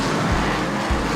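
Race car at Bowman Gray Stadium, a short-track racing event: a loud, continuous engine roar close by, with dense broadband noise and a couple of brief low swells as cars go past.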